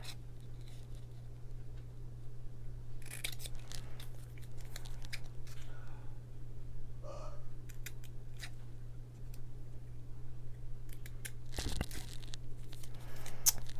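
Paper being cut for a craft banner, heard as a few close crisp snips and rustles over a steady low electrical hum, with quiet pauses between the cuts.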